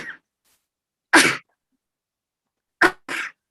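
Several sharp sneezes ring out in a quiet meeting room: one short burst, then another, then a quick pair close together, each loud and near against silence.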